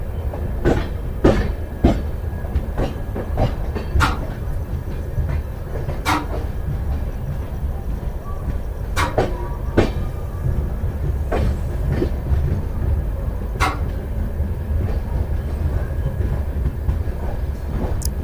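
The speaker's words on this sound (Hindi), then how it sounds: "फ़िलहाल हमारी जो ट्रेन का अराइवल है वो टपरी जंक्शन पर हो चुका है।" An LHB-coach Kotdwar Express rolls into Tapri Junction with a steady low rumble, broken by sharp, irregular clanks and clicks of wheels over rail joints throughout.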